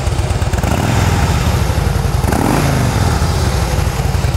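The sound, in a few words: Harley-Davidson Softail Deluxe motorcycle engine with aftermarket muffler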